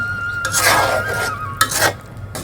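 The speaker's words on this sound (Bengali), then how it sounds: "আলুগুলা ছেড়ে দিতেছি এই মশলার মধ্যে" Potatoes stirred into frying fish masala in a pan, with scraping, stirring strokes in two bursts over a low sizzle, close and moderately loud.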